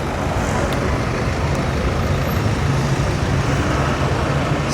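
Traffic at Sanam Luang in Bangkok during tree trimming, a dense continuous roar of several vehicles and engines close by, steady and loud throughout with no clear breaks.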